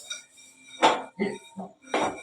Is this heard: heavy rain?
no